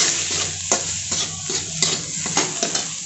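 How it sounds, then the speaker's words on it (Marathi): Turmeric and red chilli powder stirred into onions frying in oil for a spicy dried-fish chutney, a close steady sizzle punctuated by regular scraping strokes of a spoon against the pan. "हे सर्व आपण कांद्यामध्ये परतून घेऊयात"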